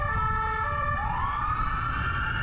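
An American police car siren wails nearby, its pitch sweeping upward steadily over a low rumble of traffic.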